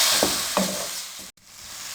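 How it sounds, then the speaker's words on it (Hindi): Spice masala roasts and is stirred in a pan with a half cup of water over a medium flame, giving a soft sizzle with a few brief scraping strokes before going quiet. "अब मसाले की हम अच्छे से भुनाई कर लेंगे 2 से 3 मिनट के लिए"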